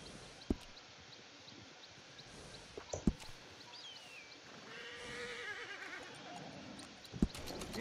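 Horses in the video game Red Dead Redemption 2 give several short snorts and a drawn-out neigh, with occasional hoof clops over a continuous outdoor ambience of wind and faint birds, moderately loud and without talking.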